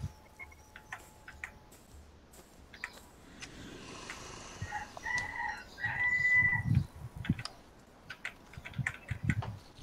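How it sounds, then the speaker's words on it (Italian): A rooster crows in the video game Conan Exiles, a single call around the middle rising out of quiet game ambience with scattered clicks and thumps. "Intanto c'è anche un gallo che ci fa compagnia, sento"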